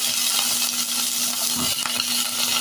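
Spring onion stalks frying in a pan, giving an even close sizzle with soft stirring scrapes and a low steady hum beneath, and no voices.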